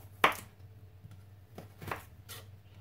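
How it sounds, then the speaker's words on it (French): A kitchen knife slices carrots into thin strips on a board, giving a sharp close chop followed by a few lighter, scattered cuts over a low steady hum. "je vais couper en fil comme ça"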